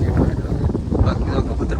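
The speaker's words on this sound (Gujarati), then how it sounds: "પવન બહુ વધારે છે" Strong wind blows across a rooftop pigeon setup, buffeting the microphone in a dense low rumble that roars continuously, with a voice faintly underneath.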